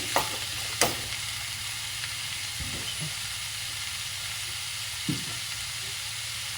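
Half a kilo of onions frying in a little oil in a Punjabi kitchen while stuffed bitter gourd is made, a steady dense sizzle throughout with a few soft stirring clinks and knocks.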